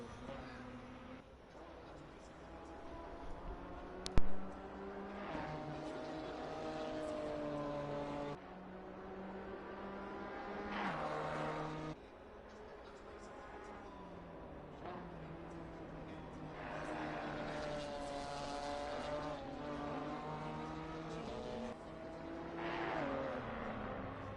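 A race car in a sim racing game laps Donington Park, its engine note rising and falling through gear changes, steady and moderately loud, under continuous commentary.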